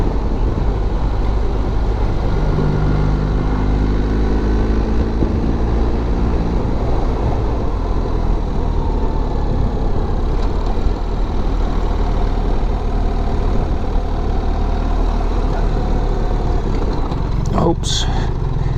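Car engine in first gear giving off a loud, steady low mechanical drone and hum from inside the cabin, continuous throughout, with a brief clatter near the end.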